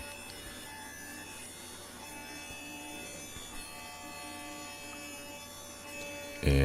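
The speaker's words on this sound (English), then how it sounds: "Now I'm taking over to my table saw where I've got the dado blade set up." A table saw fitted with a dado blade runs as it cuts wood for a cabinet humidor, giving a steady, fairly quiet whirring drone throughout with a sudden louder bump at the very end.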